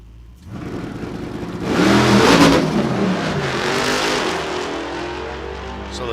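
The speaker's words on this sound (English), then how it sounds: "So the Charger having a little trouble getting off the starting line." Drag race cars, a 2008 Charger beside a 2019 Hellcat, roar loudly at the starting line, swelling into a broad burst of revving before easing to a sustained rumble.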